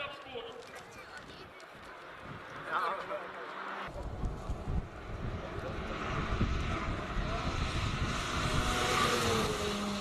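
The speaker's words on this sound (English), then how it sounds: "Lewis Smith launches with the Volkswagen Golf GTI Club Sport." A Volkswagen Golf GTI Clubsport launches on a hill climb course, its engine note rising to a loud roar that builds toward the end, while a commentator talks over it.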